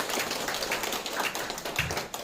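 An audience at a Korean art forum's general assembly gives a round of applause for the organizers, a dense patter of many hands clapping, steady and fairly close throughout.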